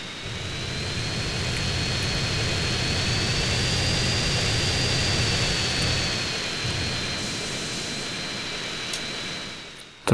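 Hydra jet flying in the video game GTA San Andreas, a steady loud engine roar with a high whining tone held for about ten seconds, dipping briefly just before a sharp cutoff.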